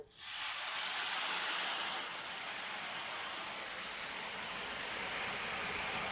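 A sudden burst of loud sizzling and hissing as coloured water hits a hot pan of melted sugar while making seviyan zarda, settling into a steady steamy hiss that continues throughout.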